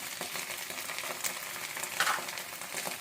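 Green chillies, ginger and curry leaves sizzle and crackle steadily in hot oil with browned onions, a continuous frying hiss with occasional sharper pops and a brief stir partway through.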